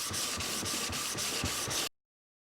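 A switch plate is sanded lengthways with 360-grit paper in steady back-and-forth rasping strokes, about eight close, rhythmic passes, loud and alone, stopping abruptly near the end.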